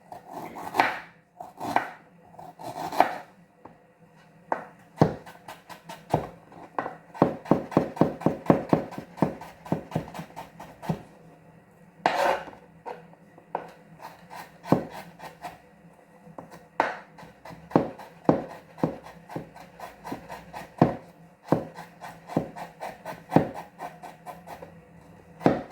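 A knife finely chops ginger on a cutting board in sharp, crisp knocks, sometimes in quick rapid runs and sometimes as scattered single strikes, close and clear with no talking over them.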